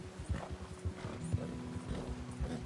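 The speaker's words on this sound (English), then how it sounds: "Some random player's horse up in the middle of the snow." Horse hooves clip-clopping at a steady walking rhythm in snow in Red Dead Redemption 2 Online, close and fairly quiet, with a faint low hum underneath.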